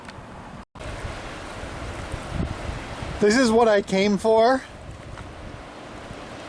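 Ocean surf and wind on the Oregon coast at Yachats, a steady roar of waves with gusty microphone buffeting throughout, as someone speaks briefly over it.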